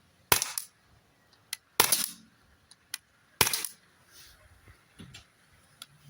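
An Umarex Glock 17 Gen 5 gas-powered pellet pistol fires three sharp, close shots about a second and a half apart, with small clicks and faint mechanical ticks between them in a quiet setting.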